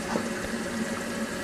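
Warm water runs steadily into a calf feeding bottle, a brief, even rushing pour at moderate loudness with no talking.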